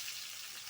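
Ginger and onion sizzle steadily in hot oil in a pan, a soft continuous frying hiss with no voices.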